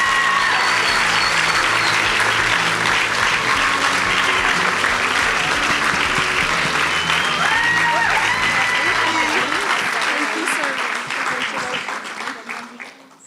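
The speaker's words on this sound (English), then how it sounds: "Keep the applause going." A crowd applauds an award announcement for Eco Drive at the Future Anything national grand final, loud sustained clapping with cheers and scattered voices that fades away at the end.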